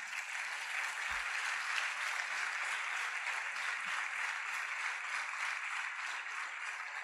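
A church congregation claps in steady, dense applause for the Lord during a Spanish-language sermon, a continuous wash of hands held at an even level from start to finish with no talk.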